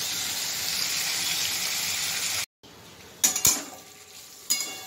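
Pointed gourd with turmeric frying in a pan, a steady broadband sizzle broken by a brief gap, then a few clinking stirs of a utensil against the pan near the end.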